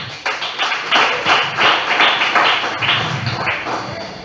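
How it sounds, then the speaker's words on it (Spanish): A small church congregation claps in an uneven burst of rhythmic applause, fairly close and loud, lasting a few seconds with no talking. "Vamos a brindarle un fuerte aplauso a nuestro Dios."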